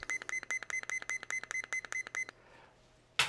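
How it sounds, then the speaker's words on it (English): A kitchen timer beeps rapidly as it is set, a steady run of about a dozen crisp electronic beeps, then a pause with faint room noise and one last beep at the end. "We're going to set the timer for about 25 minutes."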